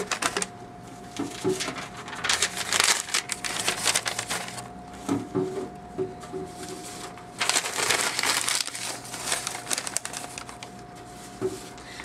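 Packing paper crinkles and crumples in bursts, rustling loudly in close handling with short pauses between handfuls.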